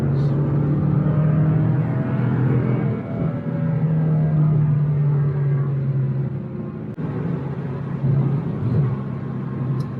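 Porsche sports car driving on a public road at night, its engine a steady loud low drone with shifting tones as it pulls, close and continuous throughout, a brief dip partway through.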